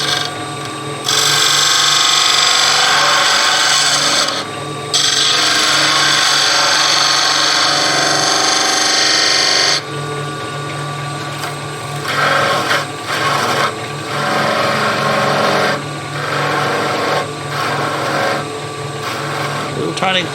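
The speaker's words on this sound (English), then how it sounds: "so I'm going to go back to my facing cut again." A skew chisel makes facing cuts on wood spinning in a lathe. It gives loud, close rasping and shearing bursts that start and stop repeatedly over a steady motor drone.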